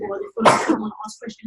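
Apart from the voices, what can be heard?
sneeze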